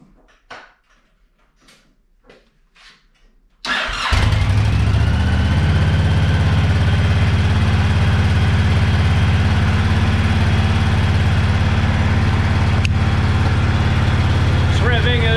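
After a few seconds of near quiet with faint voices, a cold motorcycle engine fires up abruptly. It settles into a loud, steady, slightly high idle on choke that holds close and unbroken to the end.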